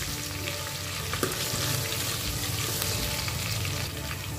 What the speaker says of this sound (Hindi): थोड़ी देर के बाद हरा मिर्ची डाल देंगे, हरा मिर्ची को थोड़ी देर फ्राई कर लेंगे